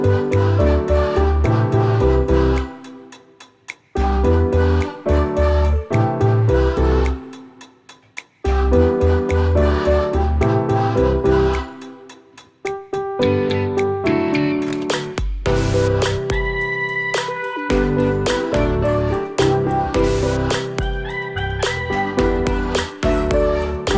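Solo piano plays the chorus of Zedd and Maren Morris's "The Middle" in an intermediate arrangement, with full chords and steady rhythm, loud and close, pausing briefly twice before continuing.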